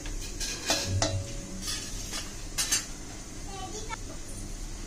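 Onion going into a pan with bay leaf, black cardamom, cinnamon and cumin, stirred with a spoon, giving soft sizzling, metal scraping and a few clinks against the pan, close and fairly quiet, with a voice speaking.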